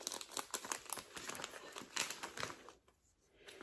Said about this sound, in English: I'm just using my scalpel quickly to open these ones.